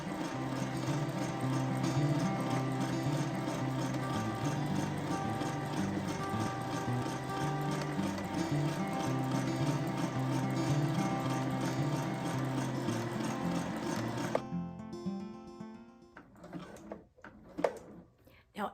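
A sewing machine stitches forward along a tote bag made from a T-shirt, a steady, continuous mechanical whir with a regular rhythmic clatter that runs for a long stretch before stopping, followed by a few light handling knocks.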